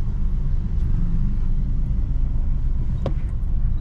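A car drives along a road during a driving lesson, giving a steady low engine and road rumble that stays loud and even throughout, with a brief sharp click near the end and no voices.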